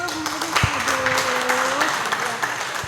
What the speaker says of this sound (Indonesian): Kita beri aplaus dulu.